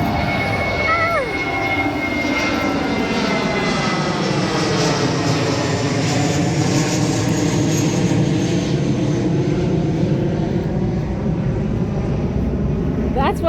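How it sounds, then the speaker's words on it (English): Airplane roaring past on the runway at Sangster International Airport, a loud sustained engine drone that swells and shifts in pitch as it passes, with voices talking over it. "You see the airplane?"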